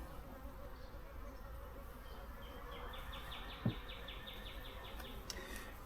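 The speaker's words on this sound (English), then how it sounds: "Lots of bees." Honey bees in a healthy hive colony split drone in a steady, close, low buzz, with a faint chirping insect and one brief knock over the hum and no talking.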